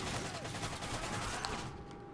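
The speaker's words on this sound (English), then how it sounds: "Everybody's shooting at me though. No, I'm shooting at the plane." Dense, continuous gunfire from a Call of Duty Modern Warfare 3 match in a village map, a steady wash of rapid shots at high volume throughout, easing slightly near the end.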